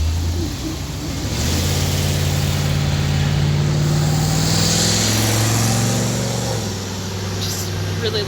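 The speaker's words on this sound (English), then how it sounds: "Just really loud traffic." Loud road traffic heard while walking beside a busy road, with vehicle engines rumbling and roaring past nearby in a continuous wash of noise.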